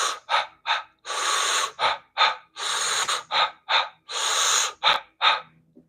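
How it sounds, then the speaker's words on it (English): Rapid Sufi breathing exercise: a close, loud run of forceful breaths, short sharp exhales alternating with longer rushing inhalations in a quick uneven rhythm, with no speech. "That's Sufi breathing."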